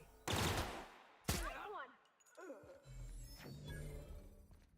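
Gunshots in a video game. Two sharp loud bursts come close together, followed by quieter overlapping game sounds and a voice talking.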